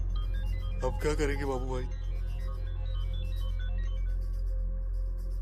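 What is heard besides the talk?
mobile phone ringing in a pocket, in a movie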